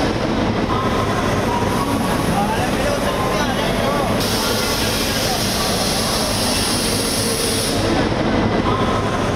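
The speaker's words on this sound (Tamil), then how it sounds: "ரயில் அதிகாலை புறப்பட்டது." A special passenger train leaving Chennai Central railway station at dawn makes a steady, loud rumble of wheels and carriages that carries on throughout, while a voice talks over it.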